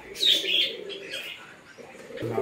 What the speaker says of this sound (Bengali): একটা বোম্বাইয়ের ক্রস পায়রা রয়েছে, বোম্বাই ক্রস পায়রা।